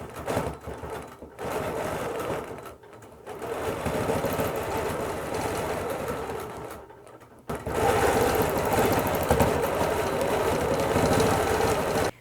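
A sewing machine stitches a small quilt, the fabric turned and moved for free-motion quilting. It runs loud and steady with short pauses, then resumes at a brisk, even hum. No voices.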